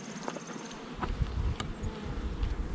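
Honey bees buzz densely around an open hive during an inspection with a Snelgrove board, a steady close insect drone with a few louder passes near the microphone and light handling knocks.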